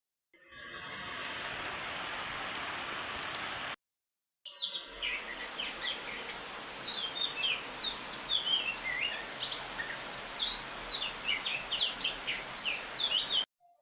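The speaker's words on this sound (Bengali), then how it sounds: "বৃষ্টির রিমঝিম শব্দ আর দোয়েল পাখির শীষ দেওয়া সকালবেলা" An oriental magpie-robin whistles on a rainy morning, its bright varied phrases repeating over a steady hiss of rain, after a brief stretch of rain noise alone.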